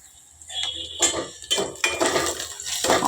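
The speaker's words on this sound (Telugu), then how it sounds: "నేను ఇలా కట్ చేస్తాను టమాటా" A knife slicing a tomato on a cutting board while preparing okra pulusu, heard as several sharp separate taps and scrapes of the blade, spaced irregularly and close up, with no talking.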